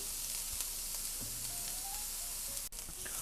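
Carrots fry for Ukrainian borscht in a continuous soft hiss of oil, quiet and close, with a few faint clinks from the pan and no voices.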